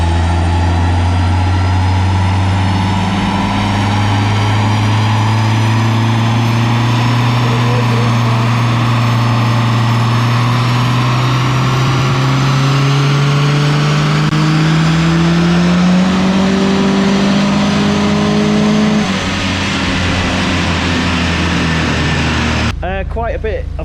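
A tuned 750bhp Cupra car engine revs hard and loud, its pitch climbing steadily over many seconds before cutting off abruptly near the end.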